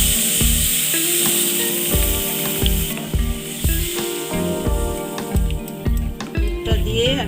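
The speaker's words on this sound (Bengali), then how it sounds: "সুজিটা ঘি দিয়ে নেড়ে নিচ্ছি, খুব বেশি ভাজা হবে না, ঘি দিয়ে একটু নেড়ে নেব।" Semolina being stirred in ghee in a pan, with milk poured in, gives a continuous loud sizzle and hiss broken by repeated scraping and clinking of the spoon against the pan.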